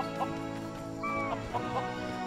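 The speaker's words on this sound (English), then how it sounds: "that's a chicken" A chicken in the Lego Worlds video game clucks in several short, near bursts over a steady background music bed.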